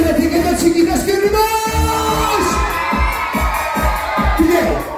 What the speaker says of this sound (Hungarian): szeretnék egy nagy sikítást kérni